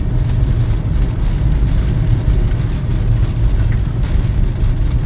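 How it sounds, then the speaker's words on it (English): A car driving at night on the road to Inch Island, its engine and tyre noise forming a loud, steady rumble that continues unbroken with no talking. "this car's running an awful lot better."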